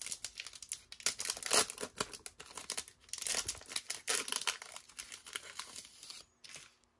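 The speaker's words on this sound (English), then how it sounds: "I'm just mangling these packs." Plastic wrappers on 2023 Donruss football retail card packs crinkle and tear in quick, close, irregular bursts, with no talking.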